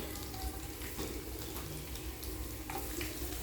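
Mustard seeds, urad dal, chana dal, cumin and dried red chillies frying in hot oil for a tempering, a steady close sizzle with faint crackles and occasional stirring scrapes, no voices.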